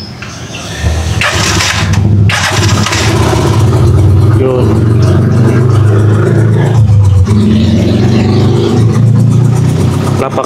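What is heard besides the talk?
Rusi Chariot 175 motorcycle engine starting and revving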